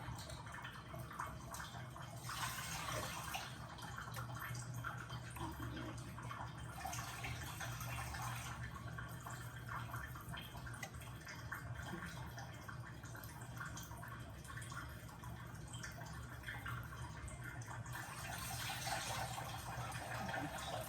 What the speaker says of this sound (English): mushrooms, yeah, you want to wash those off